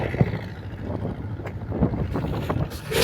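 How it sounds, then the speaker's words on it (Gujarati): A mini tractor driving a rotavator through a cotton field gives a steady low engine drone, heard from nearby with heavy wind buffeting the microphone. "આ બાજુ ચાલી રહી છે રોટાવેટર"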